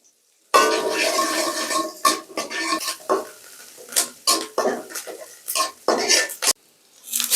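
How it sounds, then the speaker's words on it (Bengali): Onion, garlic and green chili being fried in a pan, loud stirring with repeated scraping strokes and clatter of a utensil against the pan over a bubbling sizzle, close by, with brief pauses between strokes. "এখন দিব পেঁয়াজ, রসুন, কাঁচামরিচ, এই তিনটা দিয়ে হালকা একটু ভেজে নিব"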